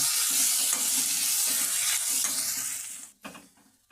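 Tomato and coriander fry lightly in a pan under steady stirring, a close dense sizzle that drops away near the end, broken by a brief clatter, with no talking.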